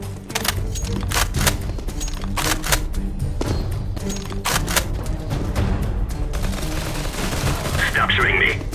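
Rapid bursts of gunfire crack out in the CSSO Mobile video game during a competitive match on Nuke, with sharp close shots in clusters and a brief pause, then a hissy stretch near the end.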